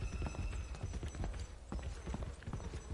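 A pig runs around in the horror game Dreadout, its quick, irregular footsteps patter continuously and fairly close, like rapid clip-clopping trotting over a noisy background.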